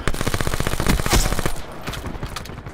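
Gunfire in a Black Ops 4 match, a dense burst of rapid close shots for about a second and a half, then sparser, quieter reports trailing off.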